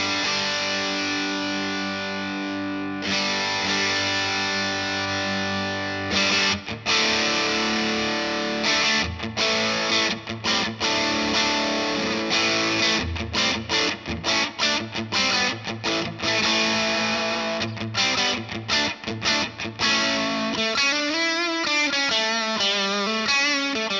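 An electric guitar played through a TC Electronic Dark Matter distortion pedal with the gain near one o'clock: loud, sustained distorted chords with choppy stops, ending in a wavering run of bent notes.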